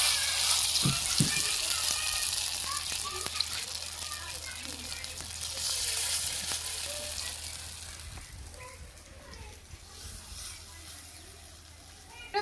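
Prawn fritters go one by one into hot oil in a wok, setting off a broad sizzle that starts strong and slowly fades, with soft knocks and someone talking now and then.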